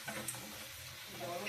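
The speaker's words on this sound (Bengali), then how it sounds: "এভাবে আমি 10 মিনিট ফোটাবো।" Moong dal with radish boiling in a pot on the stove, giving a faint, steady bubbling and simmering hiss that holds even throughout with no talking.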